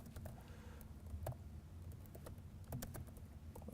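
Fingers type a search phrase on a computer keyboard in quick, faint bursts of soft clicks, with a short pause between runs.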